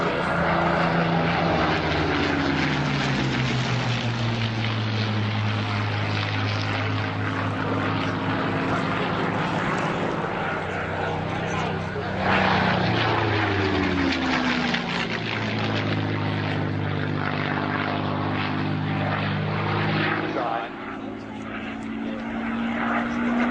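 A Hawker Hurricane warbird passes low at Shoreham Airshow, its piston engine and propeller droning loudly with a strong, steady pitch that bends downward as it goes by, then a second sweep follows, loud and close for the whole stretch.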